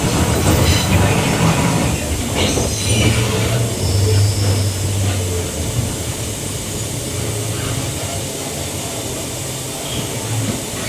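A train arriving at Northgate Station: a steady, loud rumble of rail cars, with a humming motor and a brief high whine, as a voice makes an onboard announcement over it.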